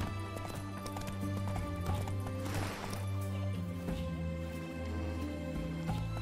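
Hoofbeats of Geralt's horse Roach in The Witcher III galloping in a steady clip-clop rhythm, set under continuous game music with an occasional whinny.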